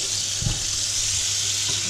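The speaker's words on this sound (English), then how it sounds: "Now I'm going to give them a rinse." Potatoes being rinsed under a running kitchen tap, a steady bright rush of water with a couple of soft low splashes as they are handled, close and without any talking.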